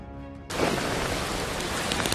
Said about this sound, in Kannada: ಪಂಜಾಬ್, ಹರಿಯಾಣ ಮತ್ತು ಉತ್ತರ ಪ್ರದೇಶದಲ್ಲಿ ಭಾರೀ ಮಳೆಯಾಗ್ತಾ ಇದೆ.